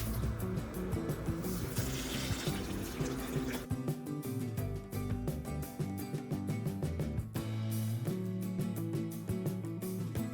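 Water pours steadily and continuously into a garden plant pot at close range, a dense splashing trickle running throughout with no talk.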